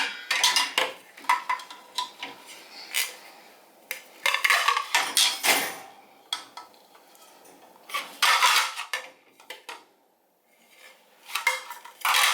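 Ceramic dishes and silverware clink and clatter in bursts as they come out of a Ramtons dishwasher and are set aside, near and fairly loud, with short quiet gaps between handlings and no talking.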